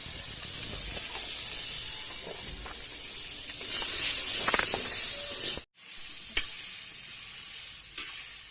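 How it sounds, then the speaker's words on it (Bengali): Potatoes frying in a wok with salt and turmeric give a continuous moderate sizzle and hiss, with stirring scrapes; after a brief cutoff, quieter frying resumes with a couple of sharp clacks. "আলুটা ভাজা হয়ে গেছে, আমি নামিয়ে নিচ্ছি।"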